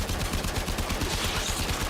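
Weapon fire directed at an alien hive in the Warframe shooter game, heard as a rapid, steady stream of close gunshots that rattles on without pause for the whole two seconds.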